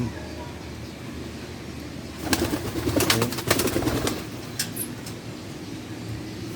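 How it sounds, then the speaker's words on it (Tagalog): Pigeons coo softly and repeatedly at close range, with a brief burst of flapping and rustling in the middle over a low background hum. "Yung ating bluebird na young bird ay si B1"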